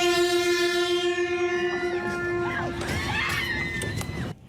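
The Alishan small mountain train sounds its warning horn in one long, loud, steady blast. Panicked people then scream and shout over it as the sound fades out.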